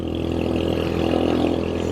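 A Royal Enfield Hunter 350 motorcycle rides along with a steady, droning engine note and continuous road and wind noise, close and moderately loud, without any voice.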